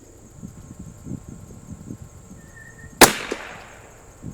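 A single sharp rifle shot from a vintage Anschutz 54 match rifle at an outdoor Halloween target shoot, loud and close after a quiet lead-in, followed by a short decaying echo.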